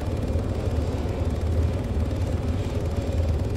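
Helicopter rotor and engine drone in the ArmA 3 military game, a steady dense low rumble that holds without a break throughout, loud and close, with no speech over it.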